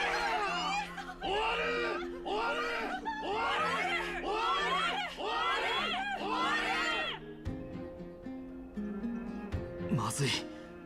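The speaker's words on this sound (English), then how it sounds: "Members of the council of elders are cheering in excitement." A crowd of elders in Honkai: Star Rail cheers and laughs excitedly, a dense chorus of overlapping voices with shouts that fade before a brief musical sting.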